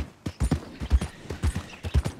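Rhythmic hoofbeats of a horse in the video game Red Dead Redemption 2, a steady clip-clop gait of soft thuds repeating close by with no talking.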